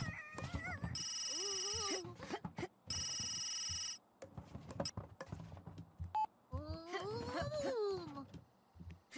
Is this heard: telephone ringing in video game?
yes